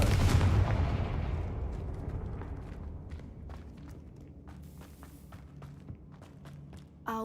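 A Confringo fire spell cast in the Hogwarts Legacy game lands with a loud, booming blast up front that rumbles and crackles as it fades, followed by scattered sharp impacts and clicks.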